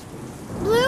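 Heavy rain pours steadily through an animated fairy-cartoon storm called Hurricane Nimbus, a dense hiss that swells louder in under a second, with a rising tonal whoosh sweeping over it at the end.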